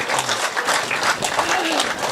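Applause from an audience at a Hindi comic poetry recital, a dense, steady patter of many hands with no clear break across its length.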